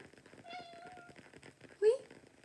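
A domestic cat meows twice nearby: a drawn-out, softer call first, then a short, louder meow near the end, over a quiet indoor background.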